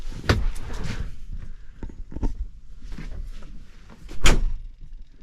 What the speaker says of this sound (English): There's all the doors shut.